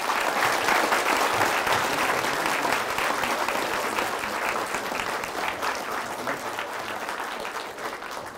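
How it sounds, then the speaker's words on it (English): Middle school students applaud a Holocaust survivor speaker, a broad wash of clapping from a large audience that starts strong and gradually thins and softens over several seconds. "We would love to just give one more round of applause."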